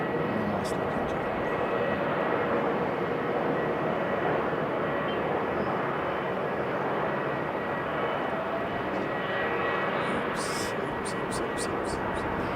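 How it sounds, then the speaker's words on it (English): A private jet passes near Sydney airport with a steady, continuous engine roar that holds evenly for more than twelve seconds, sounding loud and fairly close throughout. "Fancier fancy jet than we saw earlier."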